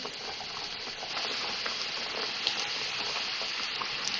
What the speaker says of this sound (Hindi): अब मैं इसको फ्राई करूँगी। कढ़ाई में मैंने ऑयल गर्म करने के लिए रख दिया था।